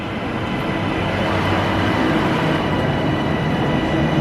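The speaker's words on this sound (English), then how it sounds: "here's the train to Lancaster" TransPennine passenger train bound for Lancaster rolling along the rails, a steady loud rumble of wheels and carriage noise heard from inside, constant throughout with no talk.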